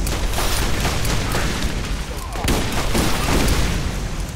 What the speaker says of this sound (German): es ist einfach nur noch eine riesige Orgie an Explosionen hier